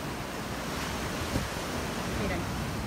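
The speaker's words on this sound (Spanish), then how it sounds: "Es que tengo una ola gigante." Ocean surf surging and crashing on a shore, with a strong wind buffeting the microphone; the roar is steady and loud, with one swell peaking near the end and no talk.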